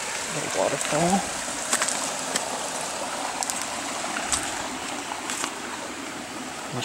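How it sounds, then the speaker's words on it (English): A small waterfall feeding a garden pond in Okinawa gives a steady, close splashing rush of water, with a few faint incidental sounds over it. "Little waterfall."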